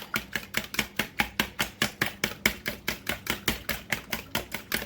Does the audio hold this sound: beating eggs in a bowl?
yes